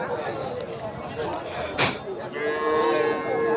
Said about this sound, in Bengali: এই যে এখানে ছোট বাছুর ছোট ছোট বাছুর আছে